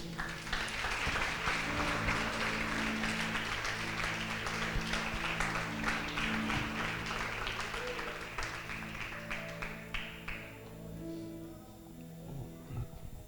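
A church congregation applauds in worship, a broad wash of clapping over sustained organ or keyboard chords that gradually thins and fades out near the end, leaving the music alone.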